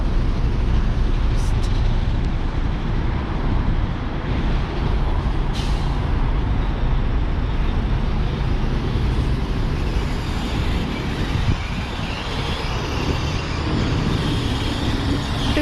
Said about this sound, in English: So we'll take you down here as well, past the lovely trucks.